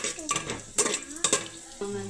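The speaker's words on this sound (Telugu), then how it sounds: "ఇందులోని హోల్ గరం మసాలా దినుసులు వేసేసుకుందాం." Whole garam masala spices dropped into hot oil in a pan, crackling and sizzling close by, with a few sharp utensil knocks against the pan and no talking.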